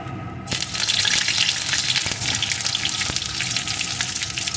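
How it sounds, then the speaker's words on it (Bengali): Curry leaves crackle and sizzle in hot oil that was just used to fry peanuts for a sweet and spicy flattened-rice snack, a loud, steady spattering with sharp pops and no voices. "এখন এই তেলের ভিতরে দিয়ে দেবো কয়েকটা কারি পাতা"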